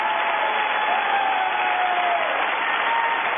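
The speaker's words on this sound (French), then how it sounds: "Quand on a peur, on applaudit." Audience clapping fills the room in a steady, dense wash of applause that holds at an even level throughout, with no voices standing out.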